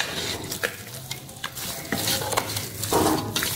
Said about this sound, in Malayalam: എന്നിട്ട് കൈകൊണ്ട് നന്നായിട്ട് അങ്ങ് മിക്സ് ചെയ്ത് കൊടുക്കുക.